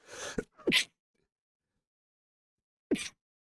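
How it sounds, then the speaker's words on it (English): A quick inhaling build-up and a loud sneeze nearby, then silence before a second short sneeze-like burst. "Oh, I'm about to sneeze again."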